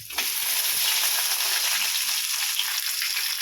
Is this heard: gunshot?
no